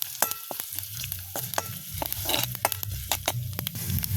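Spices and chilies sautéing in a pan for a quick papaya curry: a constant close sizzle broken by many rapid spatula scrapes and taps against the metal, busy and irregular throughout.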